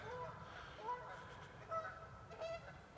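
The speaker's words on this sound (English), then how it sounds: "you can hear some Canadian geese" Canada geese honk in short, scattered calls at a moderate distance over a steady outdoor background hum, at a scout reservation campsite in spring.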